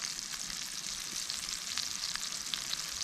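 Steady crackling sizzle of onion frying in hot oil for plov, close and even throughout with dense spitting pops and no talking.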